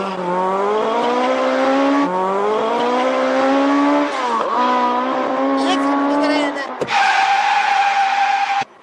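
Car driving fast through city streets with a loud, strained engine note that rises and falls, tires squealing and skidding near the end, close and dominant throughout.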